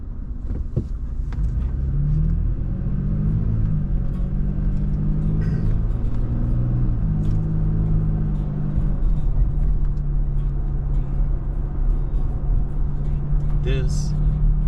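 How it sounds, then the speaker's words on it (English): Road traffic in heavy midday Friday congestion on a North Little Rock street, heard from inside a moving car as a loud, steady low engine and tyre rumble with shifting drone tones, continuous throughout. "Traffic is a little heavier than typical right now."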